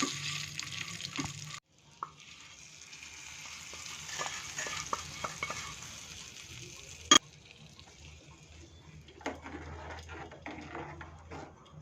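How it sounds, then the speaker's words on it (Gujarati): Hot Gujarati vaghar tempering is poured into a Kathiawadi stuffed chilli kadhi, giving a sudden sizzle and then a long bubbling fry with small clinks and stirring sounds, close and moderately quiet. "અને હવે વઘારને આપણે કઢીમાં એડ કરી દઈશું."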